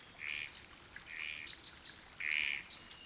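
Birdsong from the Divine Divinity video game, set outdoors in the wild. Three soft, repeated chirping calls sound over a quiet, faintly noisy ambient background.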